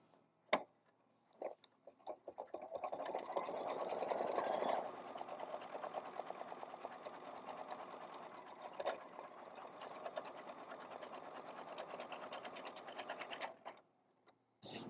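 A sewing machine runs a satin stitch with a fast, steady mechanical whir, starting after a few clicks, holding close and even for about twelve seconds, then stopping.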